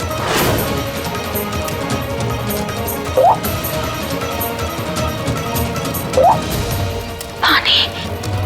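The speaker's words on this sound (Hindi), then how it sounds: "हाँ, पानी की आवाज पास से ही आ रही है।" Water drips close by in a dim room, a few distinct plinks spaced several seconds apart over steady background noise and a busy room tone.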